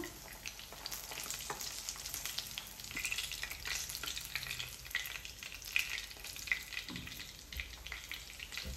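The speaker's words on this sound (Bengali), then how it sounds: "মাছ হয়ে গেছে ভাজা।" Fish fries in hot oil in a pan, a continuous crackling sizzle heard up close, with occasional stirring knocks and clatters scattered through it.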